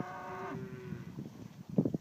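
Young Hereford cows, two- and three-year-olds, at a cattle sale in Nebraska: one long, clear moo opens near the microphone, then fainter lowing and brief calls follow among low background noise.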